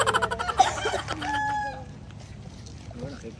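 A rooster crows loudly nearby while hens cluck in the background, with faint Filipino voices mixed in.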